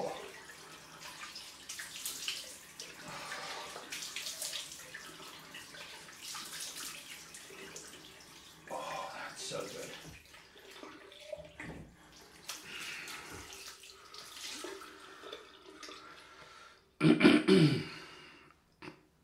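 Cold water runs from a bathroom tap for a rinse after a straight-razor shave, a steady splashing stream with uneven bursts as it is scooped, ending in a louder close splash.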